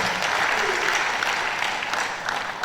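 A seminar audience at the Obas' Complex in Abeokuta claps steadily, a dense, sustained round of applause from a crowd filling the room, loud throughout and without a break.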